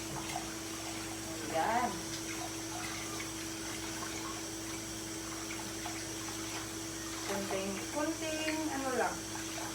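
Tap water runs steadily into a sink while raw chicken and then hands are washed in a home kitchen, a continuous faucet hiss with a faint pump-like hum beneath, and a person talks briefly over it.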